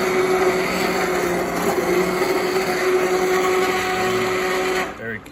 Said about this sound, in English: This is going to blend up the onions, the garlic,